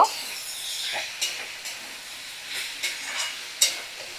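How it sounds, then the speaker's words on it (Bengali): Chachori sizzles in a hot pan while a utensil scrapes and stirs it with a little salt in irregular strokes, close by. "ভালো করে ভাজা হয়ে গেছে তো এবার সামান্য পরিমাণে আমি একটু নুন দিয়ে আরও ভালো করে নাড়াচাড়া করে নেব"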